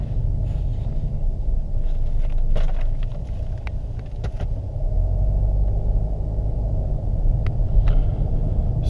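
Steady low engine rumble and road noise heard from inside a 2015 Mercedes-Benz C 220 CDI diesel on a drive, even and constant with a few faint clicks and knocks.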